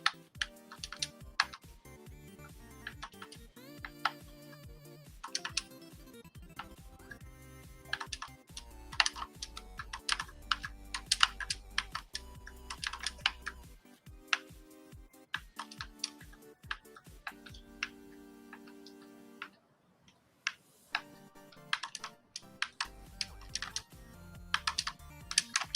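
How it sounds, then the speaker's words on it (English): Computer keyboard keys tapped rapidly while playing a 3D platformer game, with steady bursts of clicking clacks and brief pauses, close and fairly loud, with no talking. "I'm working with the keyboard."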